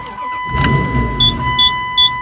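A Dodge Durango R/T from 2000 starting in cold weather, its engine catching with a low rumble and settling into an idle, joined by a repeated electronic chime.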